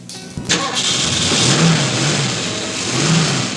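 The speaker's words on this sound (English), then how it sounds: "This is the AMC and Jeep inline six-cylinder engine." An AMC/Jeep inline six-cylinder engine cranks and catches, then runs with a steady, rough idle that rises and dips slightly, loud and close, with no voices.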